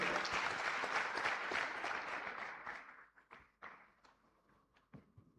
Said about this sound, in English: A very big round of applause to our lovely parent.